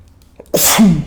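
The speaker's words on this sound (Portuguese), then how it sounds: "Vou espirrar." A single loud sneeze bursts out after a brief quiet intake, close and sharp, trailing into a short vocal tail.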